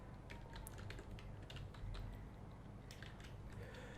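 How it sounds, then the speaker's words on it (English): Rapid, light key clicks on a computer keyboard as a web address is typed, a quiet close burst of irregular taps with no talking. "open up your browser and simply type audacityteam.org"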